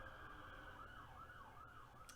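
An emergency siren, ambulance or police, wails in a repeating rising and falling pattern from somewhere outside, faint and distant under a low steady background.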